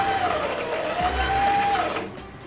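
A sewing machine winds thread onto a bobbin with a steady, close mechanical whir and a faint rising and falling whine, running for a couple of seconds before easing off near the end.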